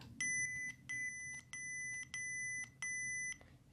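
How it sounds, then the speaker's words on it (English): Five evenly spaced electronic beeps from a lightsaber's volume setting, each a bright layered tone lasting about half a second, repeat steadily against a quiet background. "you hold the button, clash it until you hear that beep"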